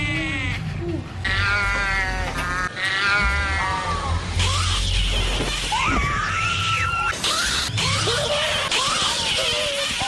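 A horror-film doll lets out a loud, harsh screech like an old, bad-tempered cat, in repeated wavering yowls and shrieks that carry through the whole stretch with no gaps, over a low rumbling film soundtrack.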